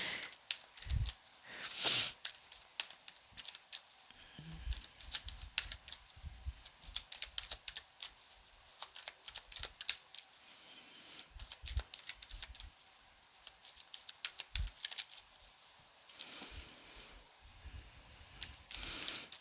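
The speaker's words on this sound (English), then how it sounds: "I'll still be here shuffling." Tarot cards being shuffled during a reading, heard as a long run of close, crisp riffling and snapping bursts in an irregular rhythm, with brief pauses between handfuls and no talking.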